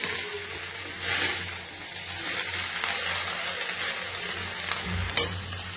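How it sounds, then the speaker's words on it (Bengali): Rice being stirred with sugar and fried cashews in a small wok, a steady scraping and soft sizzle running throughout with a couple of louder clanks of the spatula against the pan. "আর এখন এটাকে সুন্দর করে নেড়ে নেব।"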